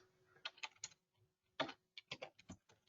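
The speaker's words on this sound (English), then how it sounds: "I'm going to just type in Plymouth" Quiet clicks of typing on a computer keyboard, a few quick keystrokes, a brief pause, then another burst of taps, close and isolated with no talk.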